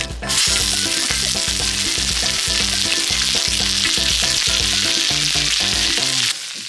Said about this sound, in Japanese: しんなりするまで炒めます。